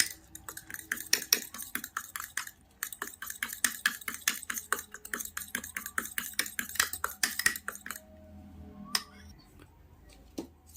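Chopped onion and green chili being mixed by hand in a bowl for a breakfast dish, with quick, irregular clicking and tapping bursts for about eight seconds, then quieter scattered sounds.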